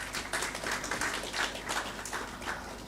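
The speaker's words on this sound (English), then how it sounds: "Please, a round of applause for him." Audience members at a formal investment project event applaud a keynote speaker, with quiet, fairly even claps pulsing steadily for a few seconds and sounding somewhat distant.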